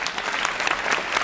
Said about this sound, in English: give yourselves a round of applause for being here and for taking part in this tonight